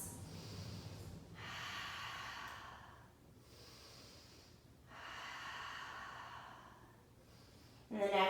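Slow, deep breaths during a yoga flow, three long airy exhalations spaced evenly a couple of seconds apart, fairly close and soft, with a brief louder rustle at the end.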